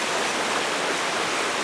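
Waterfall and stream water rushing in a steady, loud, unbroken roar that fills the whole moment with dense broadband noise, with no voices or other sounds standing out.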